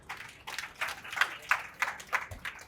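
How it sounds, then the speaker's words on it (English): Scattered applause from an audience at a primary school poetry competition, fairly faint and distant, with irregular claps rising and falling briefly before a speaker takes the stage. "Add another round of applause"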